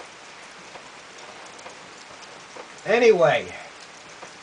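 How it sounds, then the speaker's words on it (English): Steady rain patters on surfaces outdoors on an October morning on the South Coast, a constant faint hiss throughout, with someone briefly speaking near the end. "A rainy morning here in October on the South Coast."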